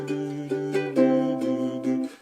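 A short plucked ukulele riff, several distinct notes in a bouncy rhythm, played close and clear with each pluck ringing briefly.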